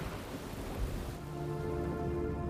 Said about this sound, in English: While rain causes severe flooding, lightning triggers numerous fires.